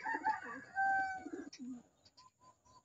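Racing pigeon at a loft giving a few soft, throaty coos at close range, with faint rustling and a couple of brief high chirps in the background.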